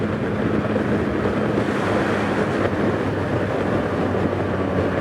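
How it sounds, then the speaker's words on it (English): Wind roars past the rider of a 2024 Yamaha MT-09 motorcycle cruising on a motorway, a loud, steady, broadband rush that fills the whole stretch without voices. "The wind is there, but it's not buffeting me too much around"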